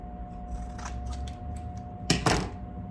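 Adhesive tape being snipped during a vacuum sealer heat bar rebuild, a few light ticking handling sounds followed by two sharp, close cutting snaps near the end over a faint steady hum.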